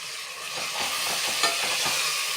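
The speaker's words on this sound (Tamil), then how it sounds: "மொத்தமாக எல்லாத்தையும் நம்ம நல்லா கிளறி விட்டுக்கலாம்" Mint leaves are stirred into a biryani mixture frying in a pan, giving a steady, close sizzle with soft scraping stir strokes throughout and no voices.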